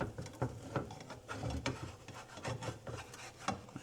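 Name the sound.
spatula scraping under a crepe on the pan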